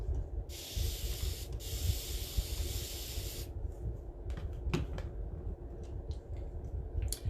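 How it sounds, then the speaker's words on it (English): Water being stirred into a thick shimmer paste frosting, a loud steady scraping-hiss for about three seconds, then softer intermittent scrapes and clicks of mixing close by. "I'm going to add a little bit of water to this one as well."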